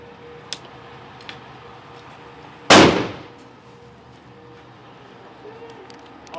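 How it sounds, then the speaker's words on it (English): A flashbang grenade bursts in a video game: one loud, sharp blast with a decaying noisy tail, set among faint clicks and ticks and light background sound. "Throw the flashbang, hurry up."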